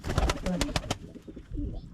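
A female pigeon sitting on her egg in an Ankara pigeon loft coos in short bursts close by, with people talking over the first part.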